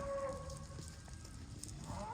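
Mashona cross calves low out in a farm pen, a few drawn-out moos rising over a faint steady hiss of rain.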